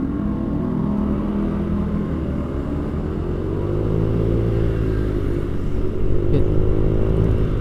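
A motorcycle moves off in Jakarta traffic and accelerates, its engine a steady loud drone that rises in pitch, with wind noise and the rumble of surrounding vehicles.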